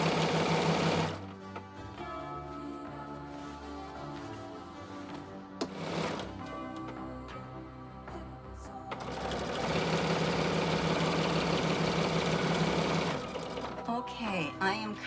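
A sewing machine back stitches quilt binding in close, rapid whirring bursts with pauses between them, and someone talks over parts of it.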